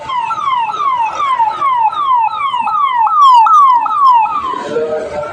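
A loud ambulance siren wails in rapid repeating sweeps, close by and continuous, approaching from behind on a Delhi street, over faint background traffic.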